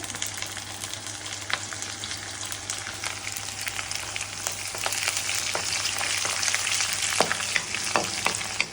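Three or four green chilies fry in hot oil while a chicken ghee roast is prepared, giving a continuous crackling sizzle with scattered sharp pops and spits that grow busier toward the end.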